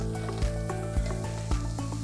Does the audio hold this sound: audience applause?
no